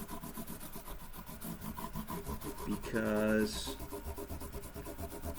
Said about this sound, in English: you don't want to do this with too rough of sandpaper